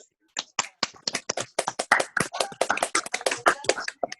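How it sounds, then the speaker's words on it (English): School audience clapping for departing seniors at an awards gathering, scattered handclaps building into brisk, irregular applause up close, with a few voices mixed in. "just clap for all those that are leaving us"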